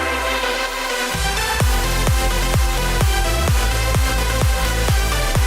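A producer's own song in progress, heard as a full mix at mastering stage: a steady beat with a deep kick thumping about twice a second under dense layered harmonic music, loud and continuous throughout.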